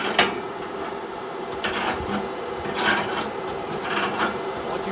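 A chain binder is cranked tight while chaining down a skid steer, giving repeated metallic ratcheting clicks in several short bursts at close range with no talking.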